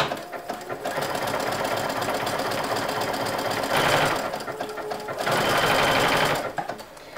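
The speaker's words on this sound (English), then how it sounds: "I am now going to pick an edge, and I want to start in the middle of the edge, and then I'm just going to stitch around." A sewing machine stitches around the edge of fabric for a travel wrap, a steady, fast mechanical whirring hum that runs continuously and close, swelling slightly louder in two stretches before easing off at the end.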